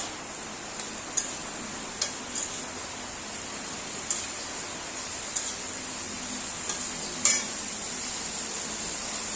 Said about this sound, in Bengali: ভাজা ভাজা হয়ে গেছে সবজিটা